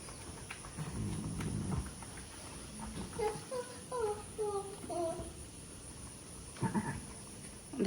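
A newborn lamb gives a short run of faint, quavering bleats in a quiet farm setting after a difficult sheep birth, with soft rustling and handling noises around it.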